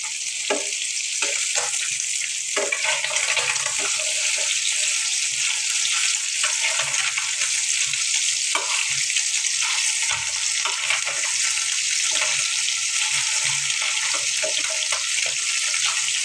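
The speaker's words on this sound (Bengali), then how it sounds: "মাছগুলো দিয়ে দিলাম ভাজার জন্য" Fish frying lightly in a pan, a steady bright sizzle running through the whole stretch, with occasional soft stirring clinks and no talking.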